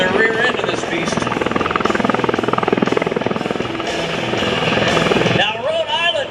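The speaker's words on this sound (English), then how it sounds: "How about a 360-degree pedal turn by the MV-22 Osprey?" An MV-22 Osprey tiltrotor hovering through a 360-degree pedal turn at an air show open house, its loud, throbbing rotor thump and whine continuous and close, with a voice talking over it throughout.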